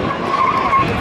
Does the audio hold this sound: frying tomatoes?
no